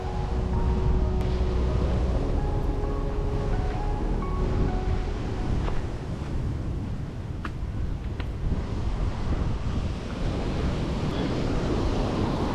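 Rough sea waves crash along the Kerala coast in a continuous loud roar of surf, with heavy wind buffeting the microphone throughout.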